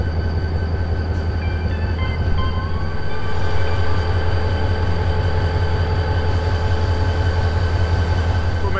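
A Karachi Circular Railway diesel locomotive idles with a steady, loud engine drone and low rumble, heard from inside the cab, continuous and even throughout with no talking.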